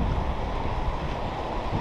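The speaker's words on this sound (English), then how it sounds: "Bit too windy today." Steady, loud outdoor wind gusts buffet the microphone with a continuous broadband roar, no talking heard.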